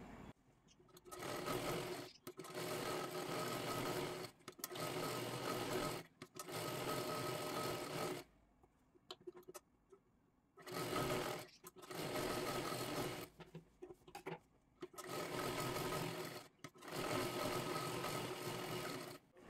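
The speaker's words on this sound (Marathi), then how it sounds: "आता इथे दोन्ही व्यवस्थित शिलाई करून झालं." A sewing machine stitches lining onto a princess-cut blouse piece in steady bursts a couple of seconds long, broken by pauses and a quieter stretch of rustling fabric in the middle.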